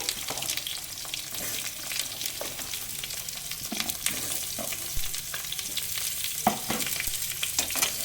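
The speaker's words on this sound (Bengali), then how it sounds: "এবারে একটু নেড়ে ভাজা ভাজা করে নেবো আলু বেগুনটা" Eggplant and potato pieces fry in a pan of hot oil under a continuous sizzle, broken by repeated scraping and clacking as a spatula stirs them, all close and without speech.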